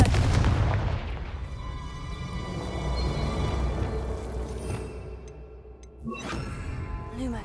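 Confringo explosion spell in the video game Hogwarts Legacy, a loud booming blast with a crackling, rumbling tail that fades over several seconds before a second, smaller burst near the end.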